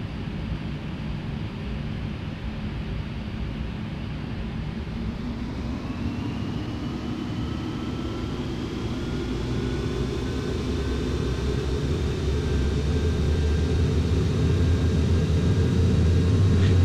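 Airliner engines in Flight Simulator X spooling up for takeoff from KLAX, a steady broad roar with a rising whine that gradually grows louder over many seconds, no talk.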